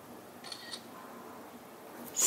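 A Blackview BV9700 Pro phone camera fires its shutter with automatic flash: soft faint clicks early on, then a sharper, louder snap right at the end in a quiet room.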